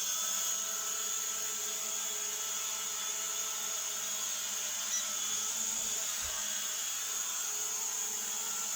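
A small toy drone hovers with a steady, high-pitched propeller whine that stays level and unbroken throughout, fairly close, with a faint brief thump near the end and no talking.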